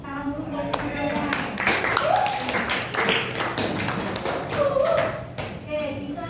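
Students in a classroom lesson break into scattered, brisk clapping with taps and thumps, mixed with voices talking over it throughout.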